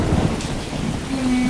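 Thunder rolls low and heavy beneath steady hurricane rain, a continuous rumbling wash with no voices.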